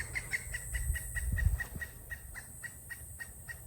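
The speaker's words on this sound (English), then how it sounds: "I'm not sure what type of bird that is." An unidentified bird calls outdoors in a Florida garden, repeating a rapid series of short, evenly spaced, piping notes, with a low rumble of handling or wind underneath early on.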